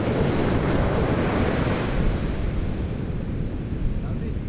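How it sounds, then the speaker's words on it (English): Huge 30 to 40 foot ocean waves pound the Outer Banks shore during Hurricane Teddy, a loud, continuous roaring surf mixed with heavy wind buffeting the microphone. "I was not expecting waves this big."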